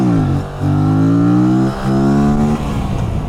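An Aprilia RS 457 motorcycle engine revs up in steady harmonic surges, dipping briefly as the clutch is blipped and then climbing again, loud and close with no talk over it.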